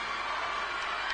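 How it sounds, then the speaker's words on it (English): Dense crowd roar from a grandstand at a girls' school swimming carnival, steady and continuous with no clear breaks, a sustained wash of many voices cheering and chanting together. "You hear the chants from the outer side by St Hilda's"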